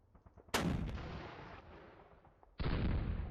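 Two booming artillery blasts in the wartime strategy game Panzer Campaigns Moscow '41, each loud and sudden with a long rumbling decay, the second arriving about two seconds after the first.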